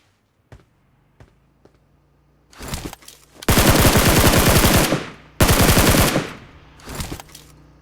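PUBG Mobile gunfire on an iPad: a few sparse single shots, then two long, loud bursts of rapid automatic fire and a final short burst, close and dominant.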